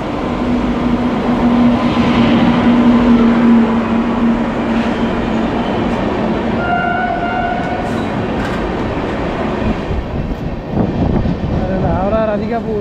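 Howrah–Radhikapur Kulik Express pulling into the station near the Sonajhuri Haat in Bolpur, a steady loud rumble of railcars with crowd noise and people talking over it.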